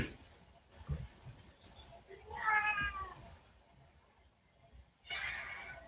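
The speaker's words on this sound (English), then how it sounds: "Do I hear a cat?" A cat meows at the door: a faint drawn-out meow in the middle, with softer rustles and low room noise around it.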